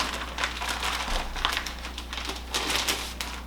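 Uncooked tortillas being peeled apart by hand for a fry pan give a steady run of soft crinkling, papery rustles close by, with no talking.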